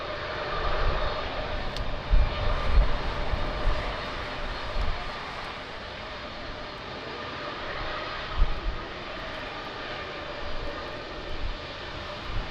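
Capital Airlines airliner engines roaring steadily at Lisbon Airport on a windy day, a broad continuous drone with gusty rumbles, heard from a distance without talk.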